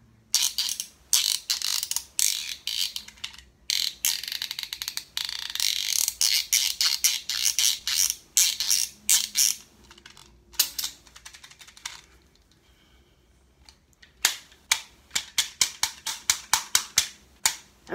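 Clicks, snaps and ratcheting rattles from a fully mechanical McDonald's Bop It toy being handled, with dense bursts of clatter, a brief pause, then a run of sharp separate clicks close up.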